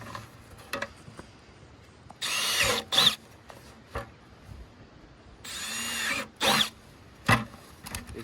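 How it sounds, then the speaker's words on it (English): A power drill with a hole-cutting attachment whirs in several short bursts with pauses between, drilling holes in a 5-gallon plastic bucket, close and loud, with a few clicks and knocks. "Comes with this drill attachment that makes it super easy."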